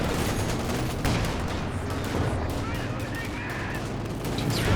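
Gunfire rattles through a Company of Heroes 2 2v2 battle as dense bursts of shots and machine-gun fire run continuously, with booming impacts mixed in, under steady talk from a commentator.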